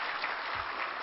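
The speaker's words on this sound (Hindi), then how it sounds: "यो सफलताको लागि हामीले पक्कै पनि नेपाली खेलाडीहरूको लागि जोरदार ताली बजाउनै पर्छ।" Audience applause for Nepali cricket players at the CPAN Cricket Awards 2019 show, a steady dense clapping from a crowd, loud and continuous throughout the short moment.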